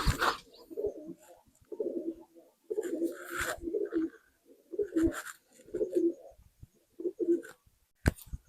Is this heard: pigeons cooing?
yes